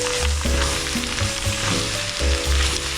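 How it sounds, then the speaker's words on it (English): Noodles and garden collard greens fry loudly in a hot pan, a bright continuous sizzle broken by repeated scraping and tossing strokes of a stirring utensil, close up. "I'm going to mix in my noodles with my veggies"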